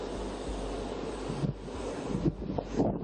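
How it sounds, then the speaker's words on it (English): Heavy wind buffets an outdoor microphone, a steady low roaring rumble with gusty bumps and rustling throughout, loud and close, with no clear talk. "I know it's very windy."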